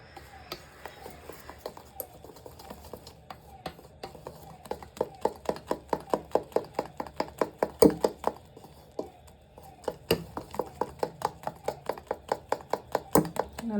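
Vanilla sponge cake batter being mixed by hand in a bowl, a steady series of quick rhythmic taps and knocks that speed up into a fast regular beat, close and fairly quiet, with no talking.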